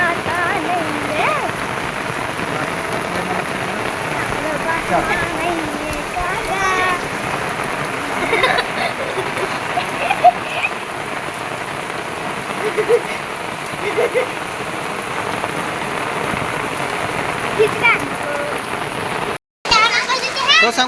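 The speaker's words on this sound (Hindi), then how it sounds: "बहुत ज़्यादा पानी गिरा" Heavy first monsoon downpour drums steadily on surfaces close by, a dense continuous hiss lasting throughout, with children's voices and chatter mixed in beneath the rain.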